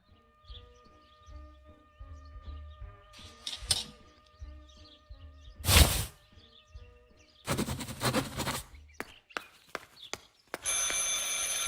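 An old telephone ringing in the game Martha Is Dead, heard as ringing bursts amid quiet ambient tones, a sharp thud and other game noises, fairly close with no talk.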